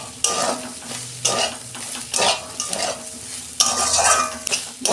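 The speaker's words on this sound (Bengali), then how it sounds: "সয়াবিনটা আমি 2 মিনিট লাল লাল করে একটু ভেজে নেব।" Soybean chunks frying in hot oil while being stirred, a steady sizzle punctuated by repeated scraping and stirring bursts every second or so, close and loud with no voices.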